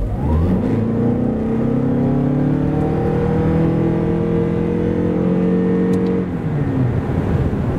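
2.5-litre Toyota RAV4 plug-in hybrid with all-wheel drive, 306 hp combined, accelerating hard from a standstill to 100 km/h, a steady engine drone climbing in pitch inside the cabin, with no talk.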